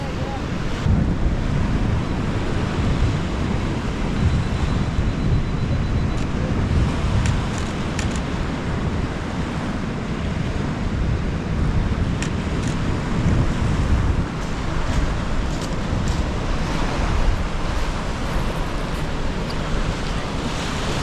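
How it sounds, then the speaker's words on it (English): Cold wind blows hard across the seashore at Marys Shell, a loud, constant roaring rush with heavy buffeting on the microphone and a broad surf-like wash, lasting the whole stretch without pause. "it's really cold wind blowing at the moment"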